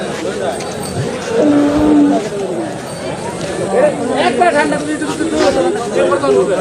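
Cattle and bulls at a crowded Qurbani livestock market on a school field in Konra, 2024, give loud, close moos amid the busy murmur of people talking all around.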